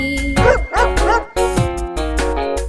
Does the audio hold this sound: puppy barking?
yes